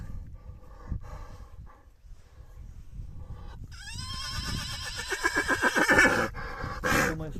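A Percheron stallion lets out a loud, long, quavering whinny after a few quieter thuds, then gives a second short call.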